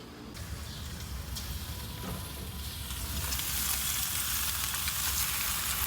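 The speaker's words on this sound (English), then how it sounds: "Let's go check on that chicken on the grill." Chicken sizzles on a grill, a dense crackling fry that grows slightly louder and brighter as it goes on, close and steady with no voices.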